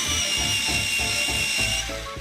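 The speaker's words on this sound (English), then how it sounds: "So I'm going to sharpen it." A Crayola colored pencil is sharpened in a whirring electric sharpener, a loud, close steady buzz with pulsing grinding that cuts off near the end, with no talking.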